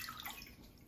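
Half a cup of water poured into a cooking pot while making quick whiskey pickles, a short, steady splashing trickle heard close up.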